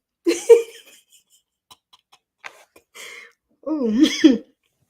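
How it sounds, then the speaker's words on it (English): A few short throaty coughs and throat-clearing bursts, close to the mic, with quiet gaps between them and a final rougher vocal burst. "let me not cough on"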